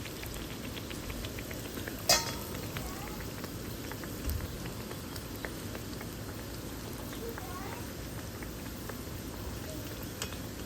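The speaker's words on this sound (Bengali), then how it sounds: "এগুলো আমরা হালকা গোল্ডেন কালার হওয়া পর্যন্ত আমরা ফ্রাই করব।" Dal puri frying in hot oil until light golden, a steady dense sizzle running throughout with a few brief clinks and stirring sounds on top.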